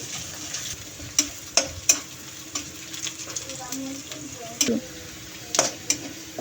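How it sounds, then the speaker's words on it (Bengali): Green chilies sizzle steadily in a pan with a soft hiss, broken by several sharp scraping stirs and clinks of a utensil against metal. "কাঁচামরিচ দিয়ে একটু ভাজবো"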